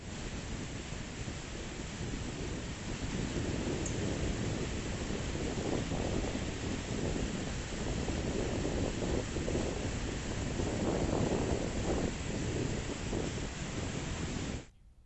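Floodwater released through 18 lifted gates of the Taliperu project dam roars into the Godavari river, a dense, continuous rushing wash of water that stays loud and steady for about fifteen seconds before cutting off abruptly.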